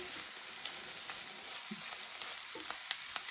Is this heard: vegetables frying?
yes